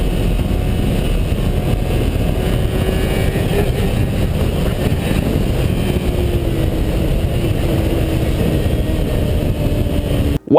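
A motorcycle ridden without gloves pulls a massive wheelie into a violent tank slapper, its engine droning loud and steady with shifting tones, close by, ending in an abrupt burst.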